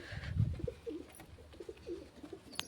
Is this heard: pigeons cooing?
yes